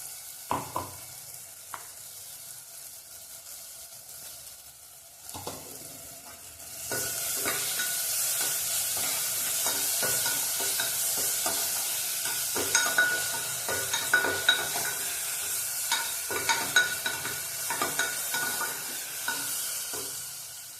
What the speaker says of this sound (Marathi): ह्यात आपण आता मसाला भाजून घेऊ